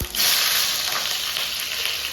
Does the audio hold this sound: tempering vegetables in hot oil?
yes